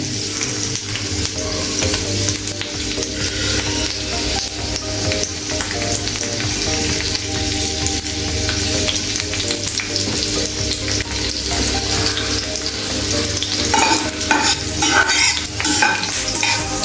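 Seven or eight garlic cloves frying in oil, a continuous even sizzle with occasional stirring and utensil clinks toward the end, no one speaking.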